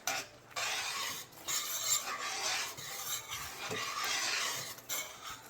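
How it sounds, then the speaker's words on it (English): A sweet and tangy lemon sauce is stirred constantly in a pan, giving soft, continuous scraping and swishing strokes at a low level, close by. "Constantly stir. Constantly stir."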